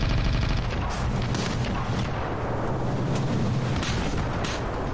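Rockets and heavy weapons fire in the battle game Ravenfield during an aircraft carrier fight, a loud continuous roar of blasts and booms with overlapping bursts.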